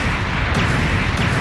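A dense, roaring blast of noise from a stepped-on landmine fills the whole clip, loud and continuous like a close explosion with rumbling debris, no distinct onset visible.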